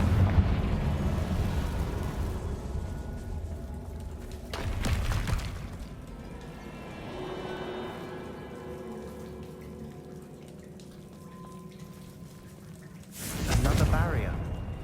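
Blasting-spell explosions in Hogwarts Legacy, cast at a barrier: two broad, noisy bursts several seconds apart, the later one louder and longer, over a steady ambient bed with a voice speaking in between.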